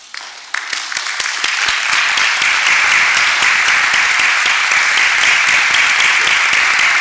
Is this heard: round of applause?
yes